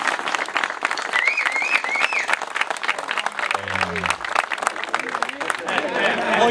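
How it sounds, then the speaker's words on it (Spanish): Sustained audience applause at a Spanish-speaking gathering honouring members' wives, dense and steady for several seconds, with brief cheering voices and background crowd noise mixed in. "un aplauso para ellas"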